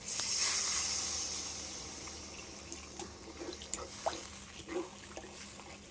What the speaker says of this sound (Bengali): এবার আমি পরিমাণ মতন জলটা দিয়ে দেবো